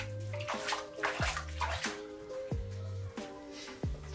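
A ferret paddles in a bathtub with shallow water, making soft repeated splashes and sloshes close by while a voice talks over them.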